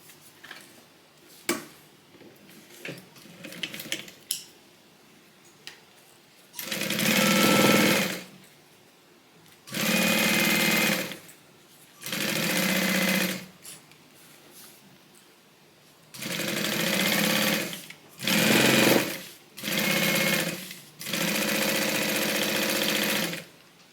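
A sewing machine stitches a Bible cover in several loud, steady bursts of rapid mechanical whirring separated by short pauses, after a stretch of quieter handling noises.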